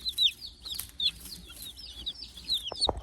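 Week-old baby chicks, red stars, leghorns and Whiting True Blues, peep in a brooder with many quick high cheeps overlapping close by, plus a couple of soft bumps near the end.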